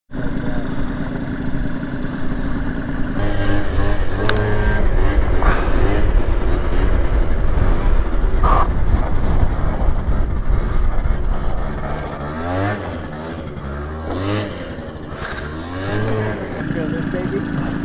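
Several Honda Dio Elite scooters roll out together for a group ride, engines buzzing loudly and revving up and down close by. Riders talk over the engine noise.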